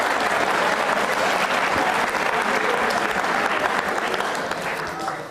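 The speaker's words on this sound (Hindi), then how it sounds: "तालियां जोरों से बजाइए दीपक के लिए" A large studio audience at a televised quiz program claps steadily and loudly for several seconds, the applause thinning slightly toward the end.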